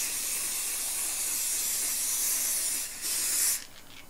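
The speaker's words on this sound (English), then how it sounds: "Okay, so that is spray and sparkle. Okay, and it's the second time that I've sprayed it." An aerosol can of spray-and-sparkle sealant hisses steadily onto a diamond painting for several seconds, breaks off briefly, sprays again in a short burst, and then stops.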